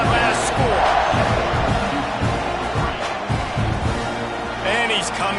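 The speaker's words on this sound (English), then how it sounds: "this crowd is buzzing after that last score." Crowd at an American football game buzzes in a stadium after a score, a dense roar of voices and cheering that runs the whole time under a commentator's running play-by-play.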